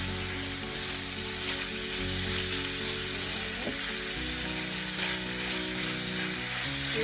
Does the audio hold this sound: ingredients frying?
yes